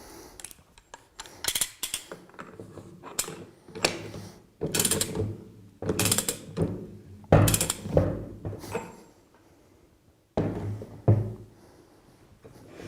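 A wrench ratchets while re-torquing the single main nut of a Flotronic one-nut air-operated double-diaphragm pump, giving close, uneven bursts of metallic clicking separated by brief pauses.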